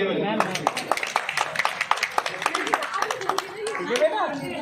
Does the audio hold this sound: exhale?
no